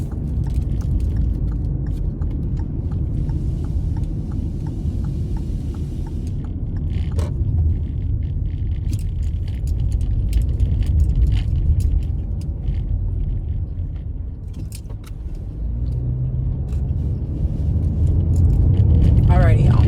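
Inside a car heading toward an expressway, a low, continuous road rumble and engine drone fills the cabin. Faint clicks and jangles sit on top, and the noise swells toward the end as the car speeds up.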